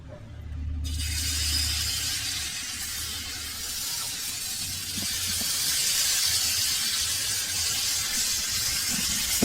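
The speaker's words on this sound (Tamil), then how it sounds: "இப்போ தோசை ஊற்ற போகிறோம்" Chocolate dosa batter hits a hot pan and sets off a broad, steady sizzle that holds close and loud, swelling slightly near the end, after a brief low rumble at the start.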